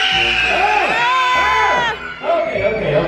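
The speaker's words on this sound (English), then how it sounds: "So when he asks you to scream, can you scream really loud?" A crowd of passengers aboard a cruise ship screams loudly together on cue, a dense, sustained roar of voices and shrieks that dips briefly before surging again.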